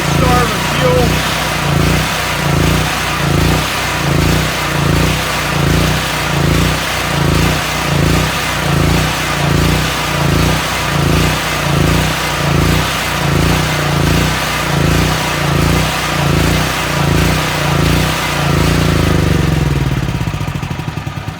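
A Predator 8750 portable generator engine runs loud and close with a steady pulsing chug, then sputters and winds down near the end as it starves of fuel.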